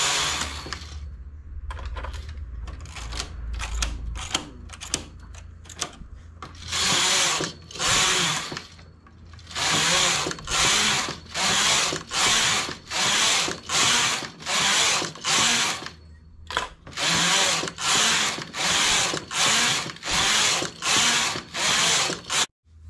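A domestic knitting machine knits straight rows for a child's sweater, its carriage sweeping back and forth in steady ratcheting, clattering passes, each about a second long with short pauses between, close and loud with no talking.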